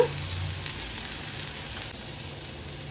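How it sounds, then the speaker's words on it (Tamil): Boiled cluster beans fry in a hot pan with chili powder and salt, giving a steady, close, continuous sizzle with no voices. "இப்போ நம்ம வேக வச்சிருக்கிற கொத்தவரங்காய் காயை போட்டுடலாம்"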